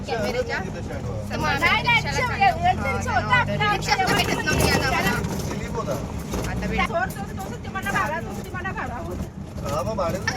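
Passengers ride in a motor auto-rickshaw, its low engine rumble and road noise steady beneath almost constant overlapping chatter and voices from several people close by.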